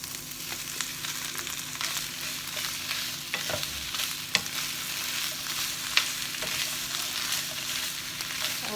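Textured vegetable protein sautéing in a pan for vegan grilled pork, a soft steady sizzle with faint scraping stirs and a few small ticks, fairly quiet and close, no voices.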